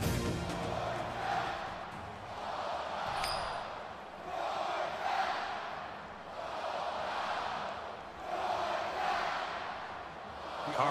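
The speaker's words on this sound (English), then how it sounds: "you can feel the thunder in the crowd as they await the start of this game" A video game stadium crowd from NCAA 14 college football, Auburn at Georgia, roars in rolling waves of cheering and chanting that swell and fade every couple of seconds, with a faint clink partway through.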